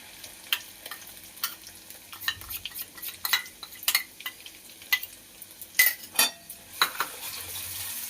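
A mustard, poppy seed and chili paste is stirred in a frying pan for Pabda fish jhal, with irregular scraping and knocking of the utensil against the pan over a soft sizzle.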